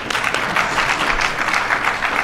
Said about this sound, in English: who I'm going to make you all clap for